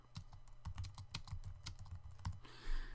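Rapid clicking keystrokes on a computer keyboard, close and fairly quiet, in quick uneven bursts that end with a brief soft rustle.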